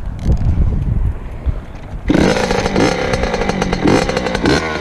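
Dirt bike engine cranking and catching at about two seconds, then revving loudly and steadily up close, with rising and falling throttle pulses and mechanical clatter.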